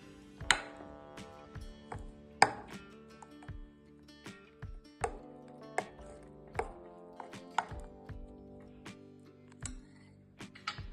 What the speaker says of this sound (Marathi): आता यामध्ये हे एक छान मिक्स करून घ्यायचे बनानामध्ये